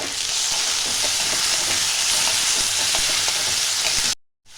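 Chopped ginger and garlic fry in hot oil in a pan for mutton kheema ghugni, a loud continuous sizzle with light stirring taps, ending abruptly.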